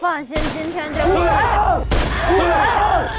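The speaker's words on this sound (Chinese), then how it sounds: "居然有个枪声" A gunshot rings out in a staged mystery game show, a sharp crack followed by another loud report, heard under excited overlapping voices of several people talking and shouting close by.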